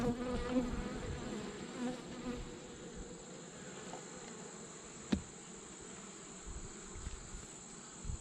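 Honey bees swarm around an opened hive, their buzzing a faint, steady drone with wingbeats drifting close and then away, and a single sharp knock partway through.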